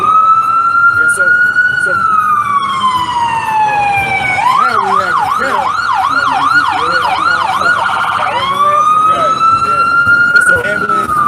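Loud, close ambulance and fire truck sirens: a long slow wail shifts into a fast rising-and-falling yelp, then returns to the wail, with a brief spoken remark over them.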